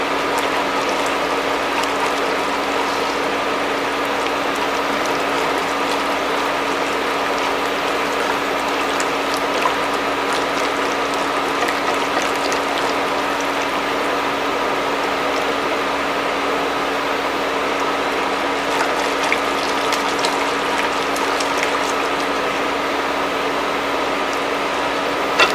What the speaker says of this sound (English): And then I'm going to whisk it as soon as I add the xanthan gum.